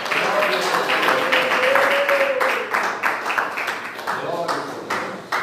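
A church congregation clapping in steady, dense applause that runs under a voice talking throughout.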